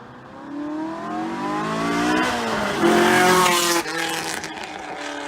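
A flat-plane engine Corvette revs hard, its high, rising and falling wail sweeping up through several pitch climbs with a raspy, high-strung Honda-like tone, loud and close, with faint tire squeal.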